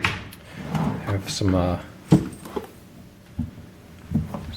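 Wooden drawers in a hotel room slide open and shut with a few sharp knocks and thuds, close and fairly loud, between stretches of soft-spoken talk.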